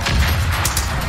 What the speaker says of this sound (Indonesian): Wow, meledak, nice.